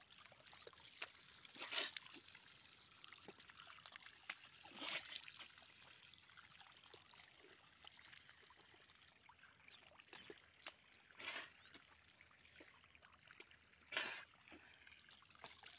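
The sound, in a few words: water running from an open pipe with no tap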